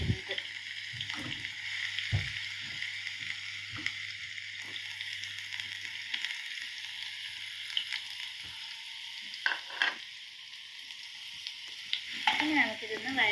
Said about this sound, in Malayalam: ഇനി നമുക്കിതൊന്ന് വഴറ്റാം.